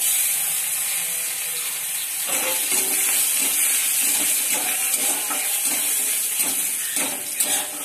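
Jute greens frying in a little oil with chili and crushed garlic, a steady close hiss and sizzle with occasional soft stirring clatter of utensil against pan.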